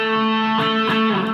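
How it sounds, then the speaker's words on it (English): An electric guitar played through a Tube Screamer overdrive pedal rings out with a sustained, gritty distorted tone, with a couple of new notes picked over the held sound, close and fairly loud with no talking. "this is the Tube Screamer,"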